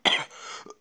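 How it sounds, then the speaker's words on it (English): A single short cough from a man in a quiet room, one sharp burst followed by a softer trailing breath, close to the microphone with no other sound. "I've been coughing a lot"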